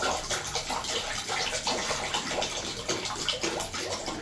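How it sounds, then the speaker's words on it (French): Water pours steadily into a glass bowl, a continuous close splashing rush that holds at an even level throughout, with no voices. "Non, on va les mettre de l'eau."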